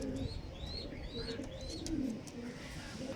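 Kalshira pigeons coo softly in a pigeon house, their low murmurs mixed with faint chirps against quiet background noise.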